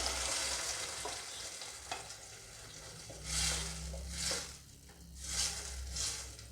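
Ground masala sizzles in a pan of green pea saagu as it is stirred in, a steady low crackle and hiss with several louder surges of frying, faint and close, with no talk.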